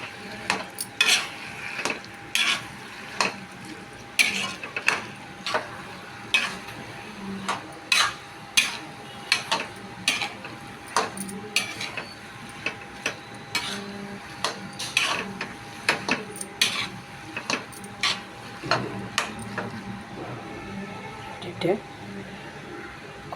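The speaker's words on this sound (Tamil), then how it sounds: "நல்லா வந்த பிறகு இந்த மேகி போட்டு நல்லா கலரணும்" Maggi noodles being stirred in a pan, a repeated rhythm of sharp spoon-on-metal scrapes and clacks over a light sizzle, close by, with a voice talking at times.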